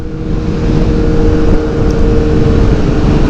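A Honda CBR 600RR motorcycle on a test ride, its engine a steady, loud, continuous drone with wind rush and no speech.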